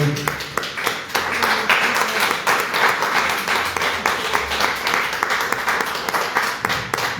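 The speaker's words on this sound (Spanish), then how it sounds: "Dale un aplauso al Señor, mi querido hermano." A church congregation at a Saturday service applauds, with dense clapping from many hands that starts abruptly and continues strongly for the whole stretch, fairly close and loud and with no voices over it.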